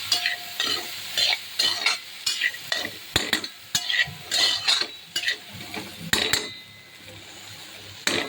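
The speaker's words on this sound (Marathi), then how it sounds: "आता आपण चिरलेला बटाटा घालू। आणि भाजी चांगली परतून घेऊ।" Chopped potatoes sauté in hot spiced oil for a spicy potato masala, with a steady sizzle broken by repeated scraping and clinking strokes of a spoon against the pan, close and fairly loud, no talking.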